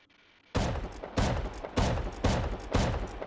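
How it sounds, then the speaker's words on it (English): Shotgun trap in a video game firing four loud, evenly spaced blasts roughly every 0.6 seconds after a brief quiet lead-in, each shot a heavy boom with a short decaying tail. "This shotgun trap is shooting."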